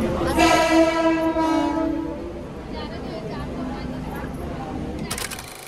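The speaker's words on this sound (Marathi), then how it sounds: "ट्रेनमध्ये बसलोय तरी पण पुन्हा ट्रेन खाली आहे आमची" Inside a moving Mumbai suburban commuter train that has left Andheri, a steady, loud rumble of wheels and carriage. A tonal horn-like whine rises in the first seconds, and some voices are heard.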